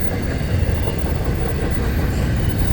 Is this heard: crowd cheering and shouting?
no